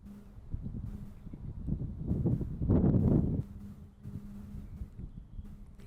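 Wind gusting across an outdoor microphone, a low rumbling roar that swells to a loud peak midway and then eases back to a steady buffeting, with no voices.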